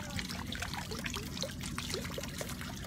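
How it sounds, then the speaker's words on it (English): Water trickles and splashes steadily in an outdoor fountain, a continuous close babble with no voices over it. "a wish on this beautiful water fountain"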